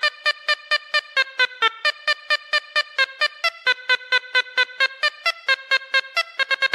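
Synthesized lead notes processed with reverb, a graphic equalizer boosting mids and highs, and distortion, made in FL Studio Mobile, play as a steady, evenly pulsed run of short bright tones with a buzzy edge and no voice over them.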